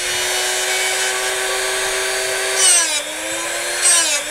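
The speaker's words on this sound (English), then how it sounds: "Grind each one of the flutes." A bench grinder steadily whines as it sharpens the flutes of a carbide-tipped SDS drill bit, loud and close, with the pitch dipping briefly under load and a gritty scrape each time the bit meets the wheel.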